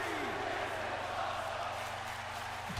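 Continuous raucous chanting from a virtual wrestling arena crowd in WWE 2K19, a broad sustained roar of voices that stays level and unbroken, with a brief sweeping tone near the start.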